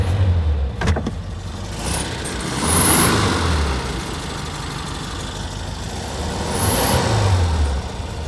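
An air-cooled VW 1303 Super Beetle engine runs steadily just after a cold start, loud and close, with two rising revs blipping above the idle before settling back.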